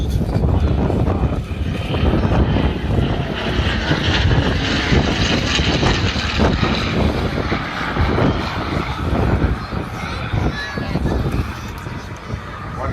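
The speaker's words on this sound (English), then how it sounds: "the different growl you hear here today of the Griffon engine" Loud, rumbling Rolls-Royce Griffon engine growl from a Supermarine Spitfire at an airshow, droning steadily throughout, with someone talking over the deep roar.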